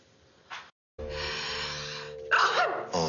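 A sneeze from a character in a Turkish TV drama, a short sharp burst followed by a longer breathy exhalation and a further gasp, close and fairly loud, with a brief voice sound just before.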